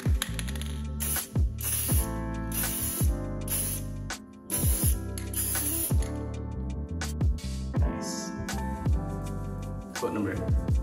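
Spray can applying a second coat of paint onto car interior parts from a Porsche 996 Turbo, repeated short hissing bursts with clicks of the nozzle in a steady rhythm, close and fairly loud.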